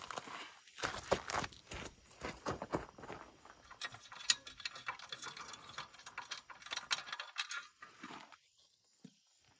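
Bolts on a Yamaha TW200 motorcycle skid plate are tightened, giving a close run of quick mechanical ratcheting clicks and taps that go on through most of the stretch, then stop near the end.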